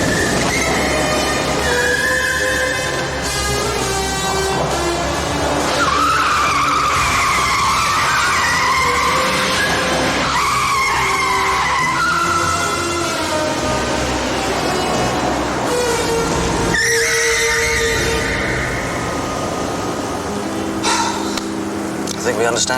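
Tyres skid and squeal in long, loud bursts from a remote-controlled car in a James Bond film scene, over a continuous roar of engine and traffic, with voices speaking partway through.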